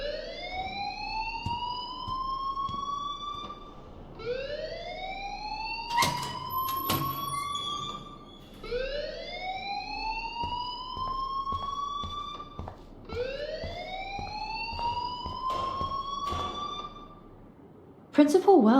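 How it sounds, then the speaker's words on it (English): A school fire alarm in the video game Life is Strange wails in repeated rising sweeps, loud and steady throughout, with sharp clicks and knocks mixed in and a burst of noise at the very end. "please turn off that alarm since that's your job"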